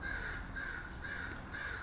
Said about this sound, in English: A bird calls